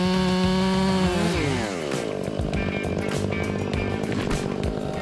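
Chainsaw roaring through a giant cedar tree near power lines, engine pitch dropping and wavering as the chain bites into the wood, loud and continuous at close range.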